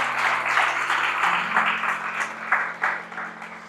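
A church congregation claps for Jesus in a rhythmic, moderately loud applause, with a low sustained musical tone running underneath.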